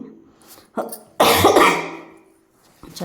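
A single harsh, loud cough bursts out close by, tailing off into quiet, with a few faint breaths or throat sounds around it.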